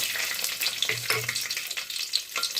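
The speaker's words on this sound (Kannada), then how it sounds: "ಅದಕ್ಕೆ ಸ್ವಲ್ಪ ಎಣ್ಣೆ ಹಾಕಿ, ಎಣ್ಣೆ ಚೆನ್ನಾಗಿ ಕಾದ್ಮೇಲೆ ಸ್ವಲ್ಪ ಸಾಸಿವೆ, ಜಜ್ಜಿಟ್ಕೊಂಡಿರುವಂತಹ ಬೆಳ್ಳುಳ್ಳಿ" Mustard seeds and crushed garlic fry in hot oil for Karnataka-style bassaru, giving a close, crackling sizzle with small pops throughout.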